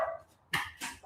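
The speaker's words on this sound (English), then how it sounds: "There go the dogs." Dogs bark in short bursts nearby, two or three loud yaps separated by brief pauses, with no talking.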